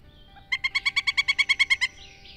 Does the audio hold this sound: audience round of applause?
no